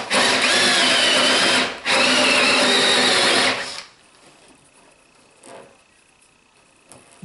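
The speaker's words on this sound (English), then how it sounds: "Drilling on that knot." A power drill whines loudly and steadily as it bores into a wood knot on a picnic table, pausing briefly, then stopping and leaving faint handling sounds.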